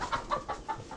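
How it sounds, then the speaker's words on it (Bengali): Chickens in a backyard pigeon and poultry coop cluck in quick, close bursts while scurrying about, a few sharp calls rising over a soft rustling bed with no talk. "তো আমাকে দেখে মুরগি কটা একটু ভয় পাচ্ছে"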